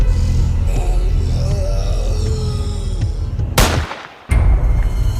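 Gunfire in a zombie film bursts out as one loud, sharp crack with a short heavy rumble near the end, after a stretch of low muffled rumbling and faint tonal sounds.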